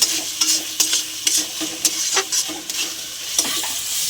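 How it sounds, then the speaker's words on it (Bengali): Chicken masala with sour yogurt being stirred and fried in a pan, a soft continuous sizzle broken by repeated sharp scraping clicks of a spoon against the pan, close and clear. "তো ভালো করে মশলাটা কষিয়ে নেব।"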